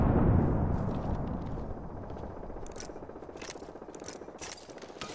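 A frag grenade detonates in Apex Legends with a heavy low boom that fades into rumbling debris and scattered crackles over several seconds, with no talk.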